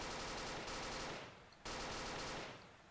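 Rapid automatic fire from a Vector submachine gun in a video game, two long sustained bursts separated by a brief pause, loud and close with no talk.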